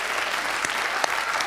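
A studio audience at a French quiz-show final applauds in a steady, dense wash of clapping, close and fairly loud, with no voices over it.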